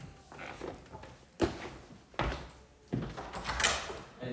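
An indoor door swinging shut in a lecture room, a few dull thumps and knocks spread across the clip, fairly close and moderately loud, with no talk.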